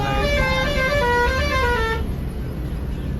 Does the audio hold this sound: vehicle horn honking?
yes